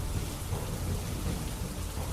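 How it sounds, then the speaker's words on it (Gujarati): Torrential monsoon downpour with thunder over villages in Gujarat: a loud, unbroken roar of heavy rain hitting surfaces with deep, rolling low rumble underneath throughout. "ટંકારિયા, રાવલ સહિતના ગામોમાં ધોધમાર વરસાદ"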